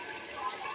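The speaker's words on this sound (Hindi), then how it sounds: "थोड़ा सा पानी डालेंगे," Water pours into a pot of potato, pea and chicken curry, a brief steady splashing gush heard close and loud.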